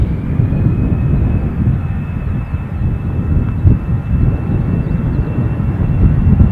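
An airplane at Dublin airport gives off a loud, steady jet roar that is broad and continuous, with a faint high engine whine held throughout.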